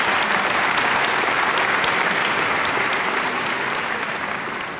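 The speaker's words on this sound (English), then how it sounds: "Please join me in a round of applause for the graduates of the Master's degree in Biotechnology and Management." Loud, sustained applause fills a hall at a college diploma and awards ceremony as graduates are honored, a dense wash of many clapping hands that eases slightly toward the end.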